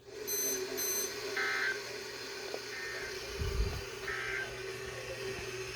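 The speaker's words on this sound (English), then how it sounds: "Excuse that sound, that was my clock." Repeated short electronic beeping from an alarm clock in groups, faint behind a steady tone and low hum, with a soft thud partway through and no talk.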